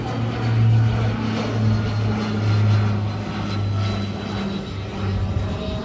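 Steady low propeller engine drone of an aircraft preparing to take off at an Andaman airport, fairly loud and continuous, with a broad roar over the airfield and no talking.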